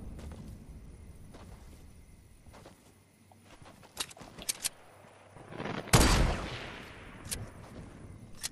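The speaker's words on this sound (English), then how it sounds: "This guy's trying to snipe" Sniper fire in an online shooter: a handful of sharp cracks scattered over several seconds, one heavy distant-sounding blast near the end, amid faint footsteps and game ambience.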